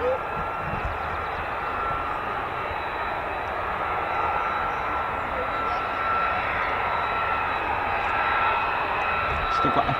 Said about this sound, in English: Still got F-35s waiting for departure as well.